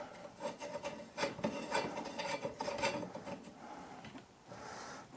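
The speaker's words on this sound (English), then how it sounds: "just get it here and just start tightening it" Metal floor lamp rods being screwed together by hand, a close, quiet rasping and rubbing with light scraping clicks in short uneven strokes.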